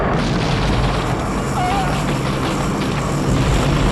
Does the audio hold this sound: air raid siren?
no